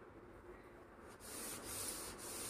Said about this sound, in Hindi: ये जो ऊपर की सतह है, इसे भी हम हल्के हाथों से रब करके साफ कर लेंगे।